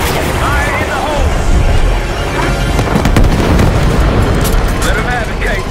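Booming explosions and gunfire in the Call of Duty Black Ops 6 campaign, loud rumbling blasts with sharp cracks throughout, layered under shouted voices and battle chatter.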